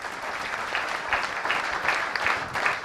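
A studio audience at a televised church program on grace claps together in a dense, continuous round of applause. It is fairly loud and steady from a full room and fills the whole moment without any voices over it.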